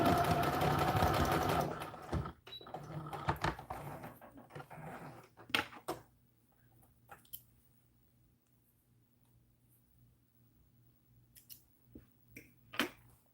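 A sewing machine running briefly near the start while stitching a doll dress bodice seam, going backwards then forwards, followed by sparse soft clicks and handling in a quiet room.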